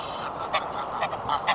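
Geese at canal locks honk repeatedly, four or five loud nasal calls in an uneven rhythm, close by and alone over a steady outdoor background.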